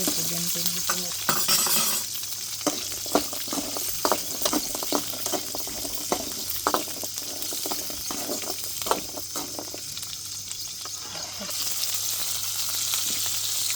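Onions fry in a pan for a country-chicken broth, a steady sizzle close by while a spoon scrapes and knocks against the pan in irregular strokes. No one speaks.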